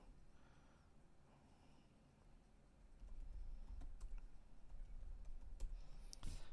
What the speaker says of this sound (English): Right now, I'm just typing in a bunch of keywords just to kind of like get some video.